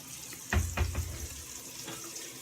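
Tap water gushes from a faucet to fill a kettle, starting abruptly with a few splashy surges and then settling into a steadier flow.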